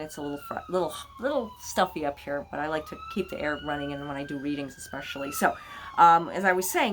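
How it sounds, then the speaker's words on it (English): A siren from a hospital across the street comes through an open window, its tone sliding slowly up and down in long sweeps beneath steady, close talking. "And I apologize for the siren, like always. There's a hospital across the street."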